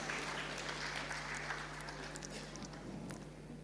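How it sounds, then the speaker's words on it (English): Audience at a climate change summit in Lagos clapping, a broad, fairly faint patter of applause that fades slightly toward the end. "I believe we deserve another round of applause"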